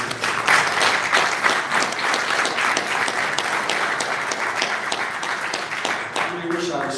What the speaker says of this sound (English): I think she deserves a round of applause for everything she's doing